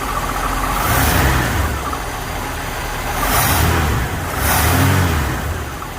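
A cold 1967 Ford Mustang engine runs close by just after starting with the choke pulling off, idling roughly with three swelling revs that rise and fall.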